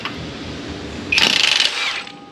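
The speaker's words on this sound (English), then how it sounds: "Got to take the nut off of the pinion yoke here." A nut being removed from the pinion yoke of a Firebird rear end during a rebuild, likely with a power tool: a sudden loud, rattling mechanical burst lasting about a second, preceded by quieter shop noise and fading out afterward.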